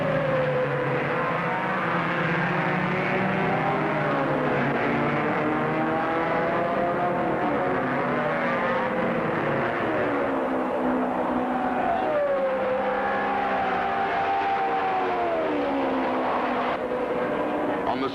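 Race cars speed around a track in a 1979 race featuring Bobby Unser's White Eagle, engines roaring loud and continuous as several cars pass one after another with rising and falling pitch.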